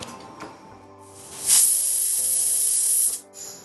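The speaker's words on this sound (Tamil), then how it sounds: "மூடி வச்சு ஒரு 4 விசில் வச்சிடலாங்க." Pressure cooker whistle venting steam while mutton cooks, a loud steady hiss that rises suddenly, holds for about a second and a half, then cuts off, over a low background hum.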